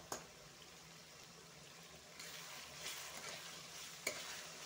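Chicken curry frying in a pan, a soft steady sizzle with faint stirring scrapes and a couple of sharp spoon clicks, fairly quiet and close with no talk.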